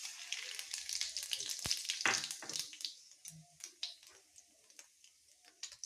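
Whole spices — cardamom, cinnamon pieces, sugar, cumin and bay leaf — hit hot oil with a loud burst of sizzling and crackling that settles into lighter, intermittent spitting and pops, close by with no talking.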